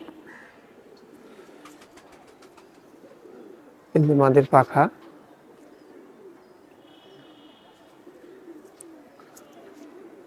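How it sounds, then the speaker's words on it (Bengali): Pakistani pigeons in a loft give a short burst of cooing calls lasting about a second, loud and close, while people talk quietly before and after. "একটা একটা করে আমি দেখাই কবুতরগুলা"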